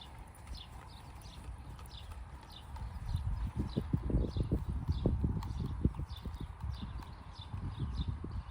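Horse hooves trotting on an equestrian riding course in a diagonal change of rein at rising trot, a steady rhythmic clip-clop that grows louder midway and keeps an even beat throughout.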